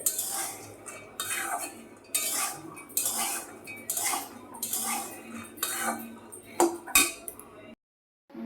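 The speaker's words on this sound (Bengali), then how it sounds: "বাদাম ভাজা হচ্ছে" Peanuts being dry-roasted in a pan and stirred with a metal utensil, giving repeated close scraping and rattling strokes in an irregular rhythm, with a brief silence near the end.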